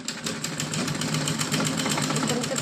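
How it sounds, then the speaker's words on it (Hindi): A sewing machine stitches stretched elastic onto a cotton dress, its rapid, even needle rhythm running close and continuously without pause. "अब इसको इलास्टिक को खींचेंगे, खींच करके इस पे सिलाई लगाएंगे।"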